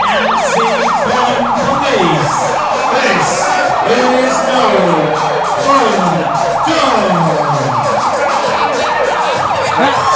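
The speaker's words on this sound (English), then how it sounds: "Siren is just so nauseating." A loud emergency siren wails continuously, its pitch sweeping up and down in rapid repeated cycles over traffic rumble.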